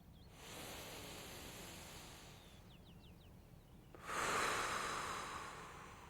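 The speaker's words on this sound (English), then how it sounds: "the trick is to breathe in through the nose and then breathe out through the mouth" Slow, soft breathing: a long, airy inhale through the nose, then after a pause a stronger, louder exhale out through the mouth, close and quiet.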